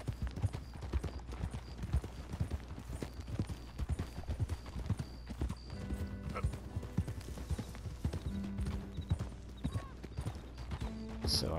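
Horse hooves clip-clop steadily in Red Dead Redemption 2 as a horse rides through the town of Valentine, a quick rhythmic beat close by, with an occasional whinny and faint background tones.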